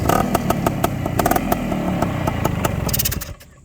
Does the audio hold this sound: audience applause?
no